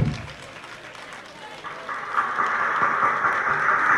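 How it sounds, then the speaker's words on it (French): Audience at a school ceremony in Korhogo applauding, the clapping swelling from scattered claps into a sustained, loud ovation over a crowd murmur. "je vous demande de vous applaudir vous-même"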